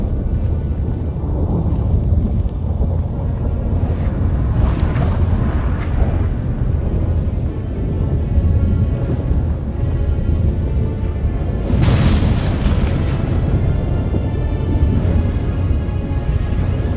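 A storm in a Witcher 3 fan film rumbles with heavy wind and rain, steady loud noise broken by two louder bursts like thunder claps, with no speech.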